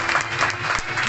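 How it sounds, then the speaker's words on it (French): An audience at a bird of prey show at an eagle park claps in a brief, close burst of steady applause. "nous allons applaudir Corentin avec son aigle impérial"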